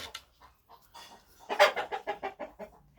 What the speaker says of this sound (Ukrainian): Ось ці курочці